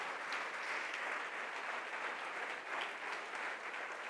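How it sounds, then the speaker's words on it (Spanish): A church congregation applauds during a worship service, with steady, even clapping from many people filling the whole moment. "¿Cuántos dan un aplauso a Jesús en esta hora?"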